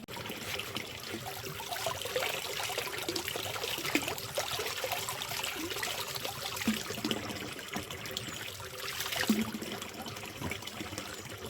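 Tomatoes rinsed under running water outdoors at a lakeside spot, giving a faint, steady trickle and splash with a few small knocks of handling throughout.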